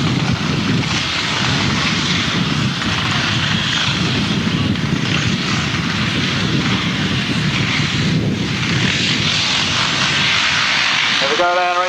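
Grasstrack racing motorcycles at a 1992 meeting pulling away together at the start of a race, a loud continuous engine roar filling the whole stretch while a commentator talks over it.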